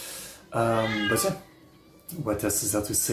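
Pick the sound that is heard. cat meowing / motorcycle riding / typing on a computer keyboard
cat meowing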